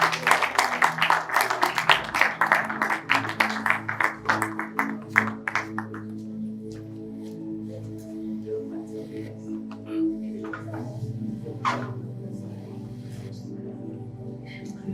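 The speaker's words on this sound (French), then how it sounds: "Avec vos applaudissements, s'il vous plaît." Audience applause at a French-language book presentation honoring a novel, loud dense clapping for about six seconds that then fades out, leaving a quiet room with a low hum.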